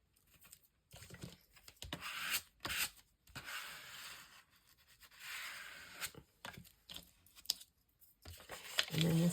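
A torn paper page is distressed for a handmade tri-fold booklet, giving soft, close bursts of scratchy rubbing and scraping separated by short quiet gaps.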